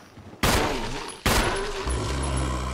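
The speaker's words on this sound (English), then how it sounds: "Six shots to kill that guy" Two loud, close gunshots in the Resident Evil video game, each a sharp blast followed by a long ringing decay, spaced under a second apart, with a low hum rising after.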